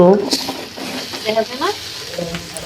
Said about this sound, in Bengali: একটি খুরচুনি দিয়ে করলা আলুগুলো ভালোভাবে নাড়িয়ে উল্টে পাল্টে দিব এইভাবে করলাগুলো ভেজে নিব